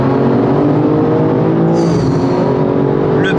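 A tuned 912-horsepower BMW M3 roars loudly from inside the cabin, its engine revving hard and sustained with a race-car-like drone and rising whine as it accelerates.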